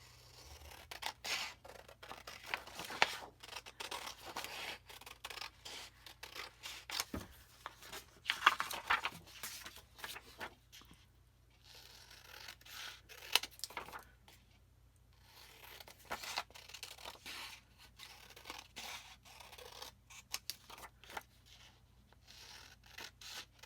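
Scissors snipping out a row of vintage paper images, close and quiet, with irregular crisp cuts and paper rustling that come in short bursts separated by pauses.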